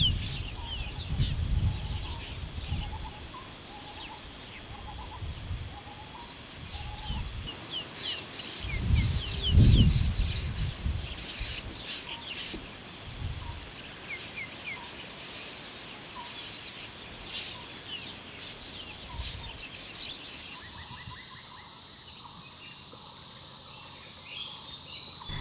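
Birds calling in a forest of Kaziranga National Park, Assam, with scattered chirps and calls over a low insect and crackling background, fairly faint and distant, no speech.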